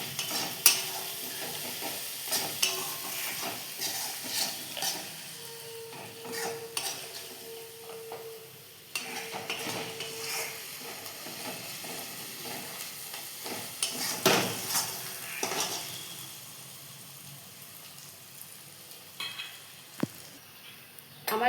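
Mustard chicken masala sautéing in a pan, a continuous sizzle with frequent spoon scrapes and knocks, easing off near the end before a final sharp clink.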